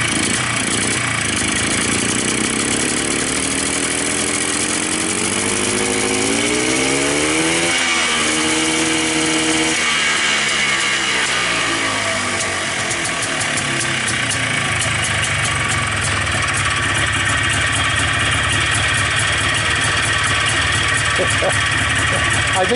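A Polaris Xplorer 250 two-stroke quad engine running with a Yamaha Blaster carburetor fitted, buzzing steadily and loudly up close, its pitch dipping and rising once midway before settling back to a constant high-revving drone.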